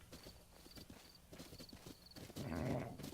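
A horse in Zelda Breath of the Wild clip-clops at a steady trot and then whinnies, with a soft chiming game tone and faint voices in the background.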